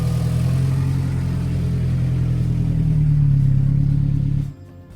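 A safari vehicle's engine runs loud and steady at a deep hum before an early morning game drive in Pilanesberg, then cuts off abruptly near the end.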